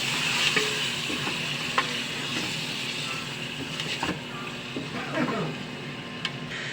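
Pork hits a hot pan while cooking sinigang, giving a steady loud sizzle and frying hiss with intermittent scraping and clacking as it is stirred, a voice briefly audible.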